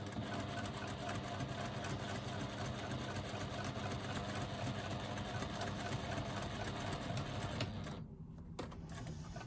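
A Pronto sewing machine stitching fabric panels runs with a steady, close mechanical whir and rapid needle chatter, then briefly stops near the end before starting again.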